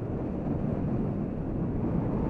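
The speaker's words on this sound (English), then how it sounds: "The wind has come up, and the wind is also going to change direction" Gale-force wind buffeting a microphone on a Honda CB500X adventure motorcycle trip, a constant low, dense rumble with no letup and no voices.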